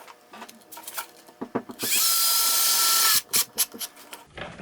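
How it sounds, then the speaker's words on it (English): A power drill drives screws into a cabinet drawer front panel in a garage: a short trigger burst and a few taps come first, then a steady whirring run of about a second and a half, followed by brief clicks and knocks. "So let's go ahead and install the screws."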